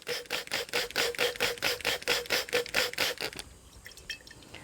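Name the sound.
water being poured into a tincture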